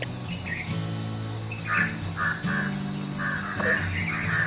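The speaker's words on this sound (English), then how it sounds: "The only sound you can hear is stridulation of cricket, chirping of birds" Crickets trill steadily while crows caw repeatedly nearby, with other birds calling in the background at Hesaraghatta Lake near Bangalore.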